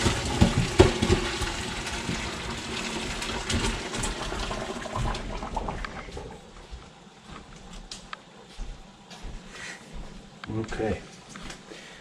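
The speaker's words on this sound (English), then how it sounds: "I've got a colander in the sink. And I'm going to go ahead and empty this." A pot of water is emptied into a colander in a kitchen sink, a loud rushing splash for several seconds that thins to trickles and drips.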